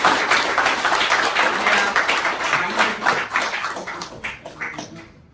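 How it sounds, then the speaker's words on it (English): Enthusiastic applause from a seminar audience welcoming a speaker to the stage, dense clapping that starts strong and gradually thins out and fades over several seconds. "Everyone, give a big round of applause."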